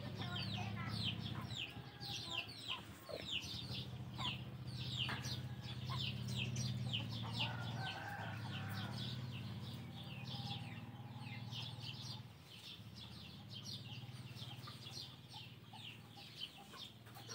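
Chickens cluck and chatter steadily while pecking at rice, a dense run of short calls close by with a soft background hum throughout.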